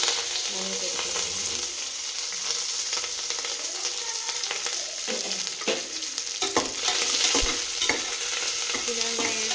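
Shallots, green chillies and dried red chillies sauté in hot oil in a pan, a steady close sizzle broken by clattering stirs and scrapes of a spoon throughout.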